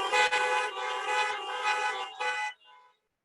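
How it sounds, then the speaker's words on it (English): Car horns honk together in a long, sustained chorus of applause at an outdoor city State of the City event, several overlapping toots blaring for about two and a half seconds before cutting off, with a brief faint tail. "Give some horn honks for that staff"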